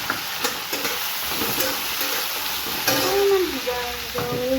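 Spices frying in a pan for a tomato chutney, a continuous sizzling hiss with intermittent stirring scrapes and clinks, close and fairly loud throughout.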